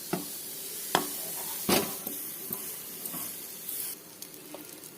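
Dosa cooking on a hot pan, a low steady sizzle with occasional sharp taps and scrapes of a spatula, quiet and close.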